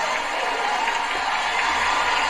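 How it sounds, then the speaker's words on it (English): Recorded applause played back as a sound effect during a live stream performance, a steady wash of clapping and crowd noise that swells slightly toward the end, fairly loud and continuous with no one speaking over it. "There's the applause."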